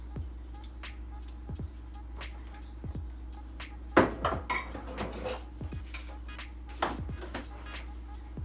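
Sausage mixture with crumbled bread being stirred and mixed in a bowl, scattered clinks and scrapes of a utensil against the dish with a busier burst of clattering midway, close over faint background hum.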